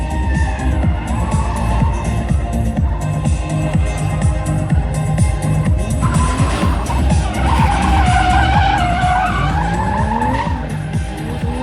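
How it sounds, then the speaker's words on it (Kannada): Drag race cars at a drag racing event skid and drift with loud, sustained tire screeching over roaring, revving engines, the squeal rising and sweeping throughout without any talk. "Not just drifting, this is the art of full throttle. Tires burning, engines roaring"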